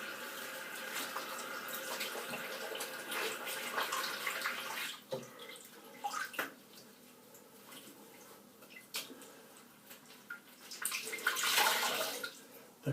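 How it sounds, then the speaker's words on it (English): Water runs from a tap into a bathroom sink, a soft continuous splashing with a few louder surges and gurgles, fairly quiet and close, without speech. "I'm going to have to run some water in the sink"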